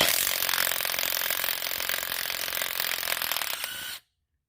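A Matco brushless impact wrench whirs loudly and steadily in a high, dense mechanical whine for about four seconds, then cuts off abruptly into silence.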